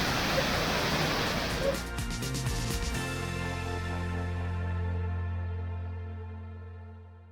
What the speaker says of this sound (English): the waterfall is just in front